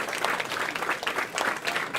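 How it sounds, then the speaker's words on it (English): Steady applause from an audience at an awards ceremony, dense clapping held at an even level throughout the short stretch. "Please give them a nice round of applause for making sure."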